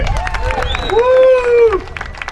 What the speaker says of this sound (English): Let's everybody here give themselves a round of applause for being here today.